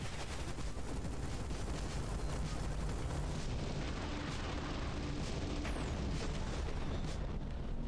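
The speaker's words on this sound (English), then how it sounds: "Oh, that was a big explosion." A big explosion rolls out as a dense, sustained roar of broadband rumble and crackle with sharp bursts scattered through it, loud and continuous for several seconds, with no voices.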